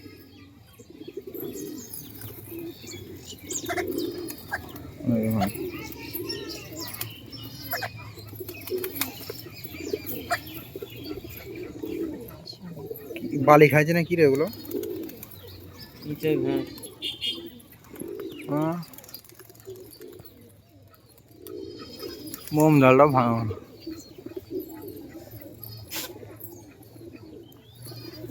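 Domestic pigeons, highflyer birds kept at a home loft, give soft low coos in several short bursts, with occasional wing flutters, while people talk nearby throughout.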